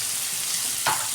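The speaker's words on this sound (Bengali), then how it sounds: "2 মিনিট আমি ভেজে নেব।" Potato and pointed gourd pieces fry with salt and turmeric in a hot pan, giving a steady close sizzle and a brief stirring scrape near the end.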